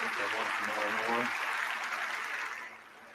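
Members in the House chamber clap during the Speaker of the House election, a broad wash of applause under talking that fades toward the end.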